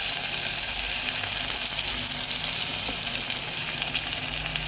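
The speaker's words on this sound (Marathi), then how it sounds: "छान असा परतून घ्यायचा आहे टोमॅटो पण आपल्याला" Tomato and onion sautéing in a hot oiled pan with a little salt, giving a steady, close, continuous sizzle that holds evenly throughout with no voices.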